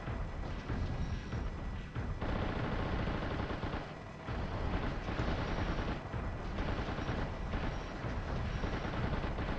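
Heavy mech cannon fire from the Xbox mech simulator Steel Battalion, a dense, continuous barrage of booming rapid shots with almost no pause, loud and close.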